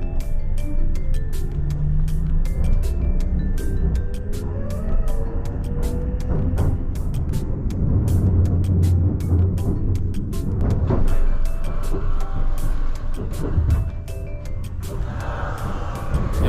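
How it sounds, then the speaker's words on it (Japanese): Onboard a Kintetsu Ise-Shima Liner limited express running between Nara and Kyoto, the salon twin-seat car with an updated VVVF inverter gives a loud, steady rumble, with motor whine tones rising and falling as it runs. "このサロンツイン席のこの車両ですが、なんと VVVF インバータが更新されております"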